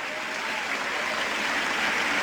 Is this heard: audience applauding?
yes